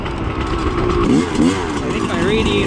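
Barn-find Kawasaki KX250 two-stroke dirt bike ridden through snow, its engine buzzing loud and close with rising and falling revs, while a voice talks over it.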